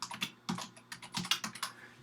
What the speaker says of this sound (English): So I'm just going to type here